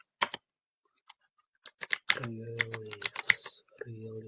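Someone types a network command on a computer keyboard in quick clusters of close, crisp key clicks, while someone talks over part of the typing.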